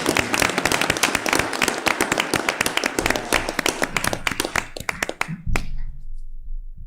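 A board meeting audience at a school district session gives a round of applause, dense steady clapping from many hands filling the room for about five seconds, then thinning out and stopping into near quiet.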